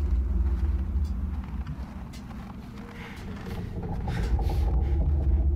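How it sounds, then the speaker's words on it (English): A steady low boat engine rumble in a video game drones throughout, a continuous deep hum with faint scattered knocks and clatter above it, no talking. "Sounds like we're on a boat."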